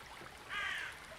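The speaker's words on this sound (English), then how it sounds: "We may have a few crows." A single crow caws once in a park, a short harsh call rising briefly over the soft, steady trickle of a stream running beneath rocks.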